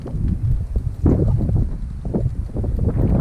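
Wind batters the microphone outdoors while a Kubota BX1860 tractor gets its annual tune-up, a close, heavy, low rumble that pulses and gusts continuously for a few seconds with no talking.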